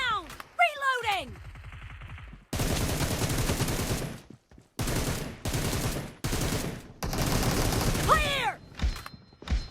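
Automatic M762 rifle fire in the BGMI battle game, several loud sustained bursts separated by short gaps, mixed with in-game whooshing effects and a brief shouted voice line.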